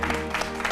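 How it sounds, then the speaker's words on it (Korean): Studio audience applause at the close of a Korean television talk program, a brief steady patter of clapping filling the room. "여러분 박수 한번 보내주십시오."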